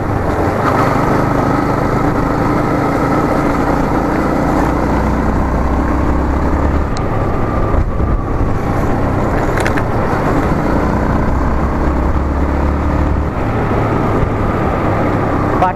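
A Yamaha MT15 BS6 motorcycle with a loud exhaust, ridden along a road, produces a steady, close, loud engine drone mixed with wind rush that lasts throughout, with no voices.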